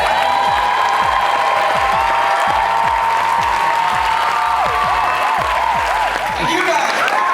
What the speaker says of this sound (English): If I could ask Corrado, Saskia, and Corey to stand up for a round of applause.